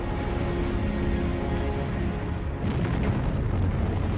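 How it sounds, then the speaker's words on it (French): A volcanic explosion on Montserrat in the Caribbean triggering a pyroclastic flow: a sustained, heavy low rumble and roar, loud and continuous, with a slight surge toward the end. "L'explosion déclenche une coulée pyroclastique, une avalanche de roches brûlantes, de poussière et de gaz."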